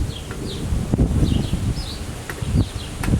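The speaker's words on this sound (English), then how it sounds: "I'm gonna shake all the bees off of the frames in this one before I introduce it" Honeybees buzz loudly and close by as they are shaken off hive frames during a hive inspection, with a dense drone and brief thumps and rustles from the frames.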